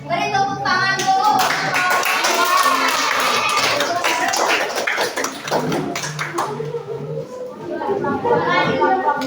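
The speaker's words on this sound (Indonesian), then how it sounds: "Boleh beri tepuk tangan dulu." Children clap together in a classroom, a dense, lively burst of many small hands close by, mixed with kids' chatter and voices throughout.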